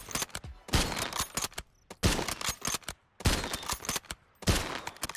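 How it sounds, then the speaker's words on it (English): Superior gun firing in Call of Duty Modern Warfare 3 with a WWE Cody Rhodes tracer pack, four rapid crackling bursts of shots with a firework-like sparkle, loud and close, separated by short pauses. "that sort of firework sound effect that you can hear when you shoot the gun"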